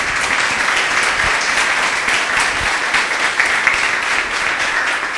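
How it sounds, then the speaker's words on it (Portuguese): A church congregation claps hands together during a worship service, dense and loud continuous applause with no pauses throughout. "Louve ao Senhor com suas palmas."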